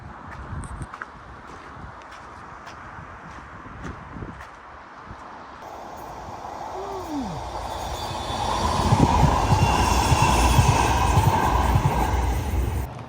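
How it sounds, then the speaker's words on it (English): A Manchester Metrolink light rail tram approaches and passes near a bridge, its rumble building from a distant hum into a loud rolling roar, with a brief wheel squeal midway and outdoor ambience throughout. "That's what your Manchester Metrolink trams look like."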